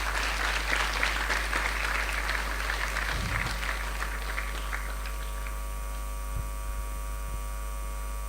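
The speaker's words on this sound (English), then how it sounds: "Please join me in welcoming His Grace Rukmini Krishna Prabhuji with a big round of applause." Applause from the audience at an ISKCON Chandigarh youth festival welcoming a speaker, steady clapping that gradually fades, over a constant low electrical hum.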